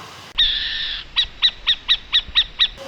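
A small owl gives a sustained trilled whistle, then a steady series of seven or eight short evenly spaced hoots, clear and fairly close with no other sounds.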